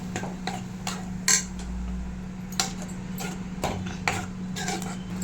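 A metal utensil stirring spinach clinks and scrapes irregularly against a clay cooking pot, light taps over a steady low hum.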